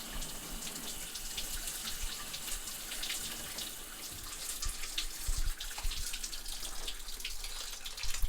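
Water runs steadily from a tap or shower, a loud, continuous splashing gush with small surges and spatters throughout and no talking.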